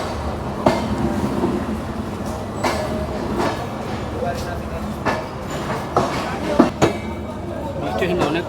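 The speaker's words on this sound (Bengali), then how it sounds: "আমাদের ট্রেন এই মুহূর্তে এসে পৌঁছালো ব্রিটিশদের তৈরি সান্তাহার রেলওয়ে স্টেশনের 2 নম্বর" The Ekota Express arriving at platform 2 of the British-built Santahar railway station in the evening, a steady rumble of rolling carriages with clanks and scattered knocks, amid nearby voices and station bustle.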